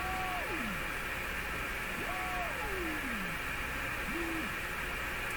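Sliding whistling beat-frequency tones from a Hallicrafters S-40A shortwave receiver sweep downward through steady radio hiss, a few separate glides, one short tone near the end.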